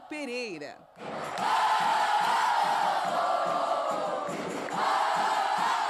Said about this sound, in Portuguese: Os gritos vindos da arquibancada estavam diferentes no último domingo no Couto